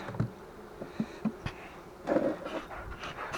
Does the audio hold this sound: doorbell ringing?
no